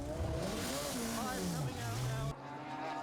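A Radical race car pulls away from the pit lane at Donington during a 2019 Radical Challenge Championship finale, its engine note climbing steadily in pitch as it accelerates, loud and continuous with trackside commentary over it, cutting off abruptly near the end.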